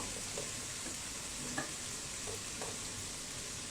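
Beef curry sizzles in a pan with a steady, hissing fry and a few faint scraping stirs, fairly quiet and with no voices.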